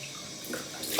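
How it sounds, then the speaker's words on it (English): Cold water from a bathroom tap is splashed onto a face, a brief soft trickle and splash, faint and close, with no talking. "let me put some cold water on my face just to shock it"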